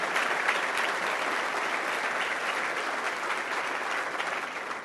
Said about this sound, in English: Let's give them also a big round of applause.